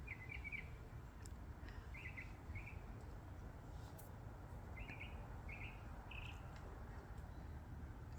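Small garden birds chirp in short bursts of tweets scattered across a calm morning, faint and somewhat distant over a steady low outdoor rumble.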